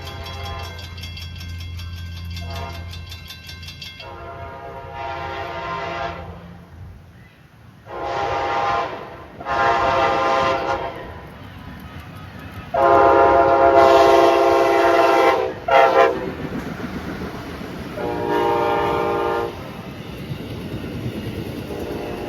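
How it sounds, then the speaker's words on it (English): An Amtrak passenger train from Chicago to Miami passes through Auburndale behind an ALC-42 Charger locomotive, sounding a series of loud horn blasts. Each blast is sustained, with short gaps between them, over a low rumble from the train. "This is Amtrak PO41 coming from Chicago down to Miami, here through Auburndale with a ALC 42 Charger Duo."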